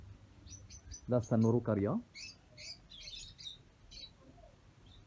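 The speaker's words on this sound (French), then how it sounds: "Et là, c'est ma volière d'oiseaux." Small birds chirping and tweeting in a backyard aviary, a short burst of busy, fairly close calls followed by scattered lighter chirps, with someone speaking French over them.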